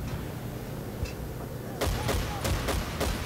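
Gunfire in Battlefield 1943 on Wake Island, a quiet stretch followed by a burst of sharp, closely spaced shots over steady background noise.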